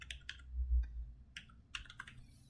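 Computer keyboard being typed on, a few quick clusters of soft key clicks close by over faint low background hum, with no talking.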